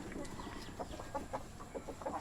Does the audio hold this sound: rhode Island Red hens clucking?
yes